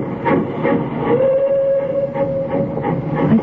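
A steam train pulls away in an old radio drama, a long sustained whistle sounding over rumbling, chugging rail noise, loud and close with no voices.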